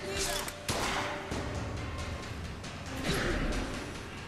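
Turret gunfire in Bioshock Infinite, a burst of sharp shots and impacts amid noisy game action, fairly loud and continuous with no talk over it.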